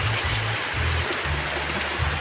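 Flood water flows steadily around a house after heavy rain, a continuous close rushing wash with low rhythmic pulses beneath, no voices.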